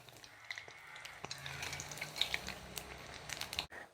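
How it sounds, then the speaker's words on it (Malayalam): Small green pea vadas fry in hot oil with a soft, continuous sizzle, faint and close, broken by a few light clicks and pops, with no talking. "ഇങ്ങനെ എല്ലാം നമുക്ക് വറുത്ത് കോരിയെടുക്കാം."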